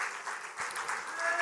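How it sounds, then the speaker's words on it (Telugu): A church congregation claps in praise of God, a short burst of dense, continuous applause with a voice faintly beneath it. "చప్పట్లు కొట్టి దేవుని స్తుతిద్దాం"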